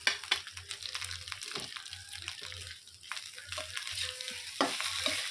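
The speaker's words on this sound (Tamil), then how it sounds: "அதிலே வந்து நான் வந்து சாதமும் சேர்த்துக்கிறேன்," A spoon stirs drained cooked rice into roasted murungai keerai in a hot pan, with repeated soft scrapes and a few sharper knocks over a gentle sizzle, close by and without talk.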